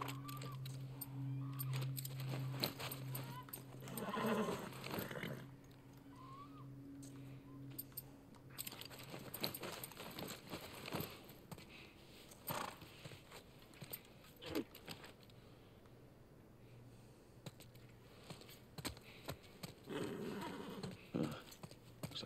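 Horse sounds in The Last of Us Part 1 on PS5, with soft hoof clops, shuffling and tack jingling close by over a steady low ambient hum. The sounds are intermittent and there is no talk.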